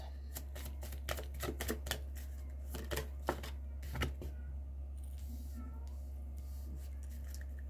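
A domestic cat meows faintly a few times amid a steady run of sharp clicking and tapping noises and a constant low hum, with no talking.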